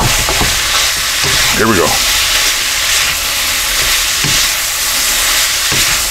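Cheesesteak with peppers stirred and frying in a hot wok, a steady loud sizzle with scraping stir strokes throughout, and a brief spoken phrase near the start.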